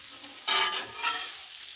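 Frozen pierogies hit a hot Blackstone griddle with a sudden broadband sizzle that swells, dips and flares again briefly before settling to a steady low fry; no voices.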